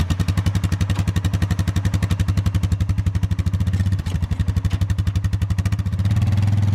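Grass seed spreader spinning on a four wheeler, a steady, loud, rapid mechanical chatter over an idling engine drone, close and continuous throughout.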